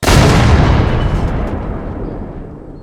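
A single loud cannon blast in a video game booms out and rumbles away over a few seconds, standing alone with no talking.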